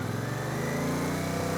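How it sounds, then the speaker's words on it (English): A motorcycle engine holds at raised revs, a steady, fairly loud mid-pitched hum close by, rising slightly near the end, with no talk. "get the revs up"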